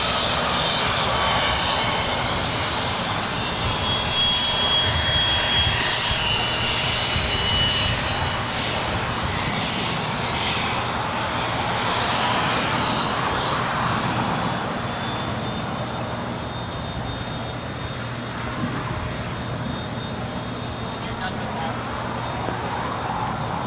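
A Falcon business jet taxiing on taxiway Alpha at LAX, giving a continuous jet-engine roar with a thin high whine, steady over the whole stretch, with people talking faintly underneath.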